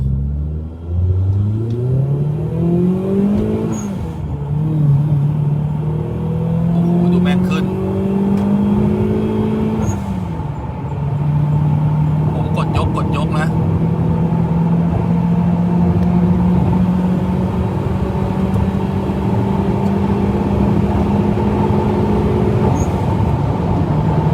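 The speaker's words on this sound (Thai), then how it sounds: "เสียงท่อก็เงียบเหลือเกิน" A Toyota Camry 2.0 turbo engine revs up through several gear shifts, with a deep, steady, fairly quiet exhaust drone close by and constant road rumble underneath.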